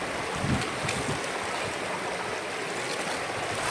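A river with a strong current rushes steadily at close range, a dense, continuous wash of moving water with no voices.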